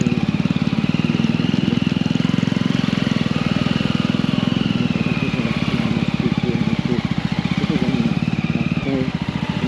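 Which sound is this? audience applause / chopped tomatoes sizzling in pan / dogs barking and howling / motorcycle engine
motorcycle engine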